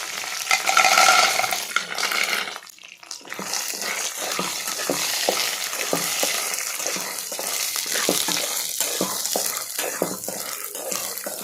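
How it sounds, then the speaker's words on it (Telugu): Garlic, curry leaves and peanuts fry in hot oil for spicy Kaaram Pallilu, a steady close crackling sizzle with a brief lull near the start, then continuous spattering dotted with small pops. "అందులో కొద్దిగా ఆయిల్ యాడ్ చేసి ఆయిల్ హీట్ ఎక్కిన తర్వాత దంచి పెట్టుకున్న తెల్లగడ్డ, తర్వాత కరివేపాకు, తర్వాత శనగింజలు వేసి వేయించండి"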